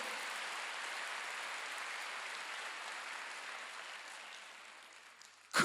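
A church congregation applauds during a Wednesday worship service, a steady hiss of clapping that slowly thins and fades before a sudden sharp noise at the very end.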